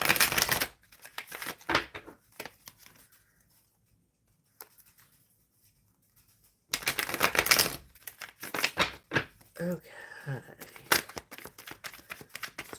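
Tarot cards shuffled during a live reading give soft riffling and slapping bursts, a flurry at the start, a quiet stretch, then more busy shuffling, close and fairly faint, with a brief spoken word.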